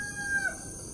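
A large rooster crows once, somewhat distant and moderately faint, its call rising and then dropping off, over a steady background hum.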